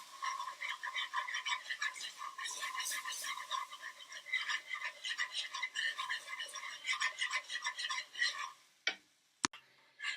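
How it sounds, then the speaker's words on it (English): Béchamel sauce being stirred in a pan, a steady run of soft ticking, scraping spoon strokes close by for about eight seconds, then a brief pause and a couple of sharper knocks at the end. "Just keep on stirring until you have a thick sauce."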